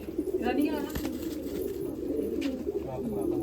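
Old-breed pigeons kept on a rooftop in Amritsar coo continuously close by, a low, throbbing murmur of overlapping calls, with brief higher chirps and a voice over them at times.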